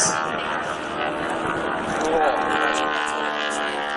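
A propeller aircraft drones steadily overhead at an air show at Stewart International Airport, New York, a sustained tonal engine hum with a slight pitch sweep midway, moderately distant beneath faint background noise.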